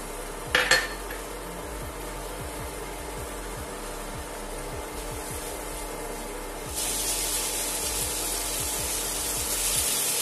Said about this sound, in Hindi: अब गैस ऑन कर देते हैं और ये टमाटर डाल देते हैं।